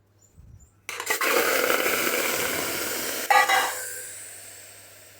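Mutton dropped into a hot pan on the stove bursts into a loud, steady sizzle and hiss that holds for a few seconds, flares briefly, then slowly dies down.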